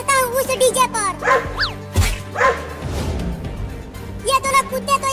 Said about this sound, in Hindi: ये दोनों कुत्ते तो यहाँ भी आ गए।